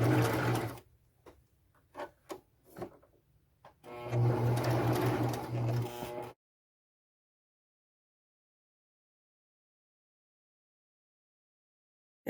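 A sewing machine stitches a zipper onto a crochet pouch in two close, steady whirring runs, the first short and the second longer, separated by a few soft clicks and handling noises before it falls silent.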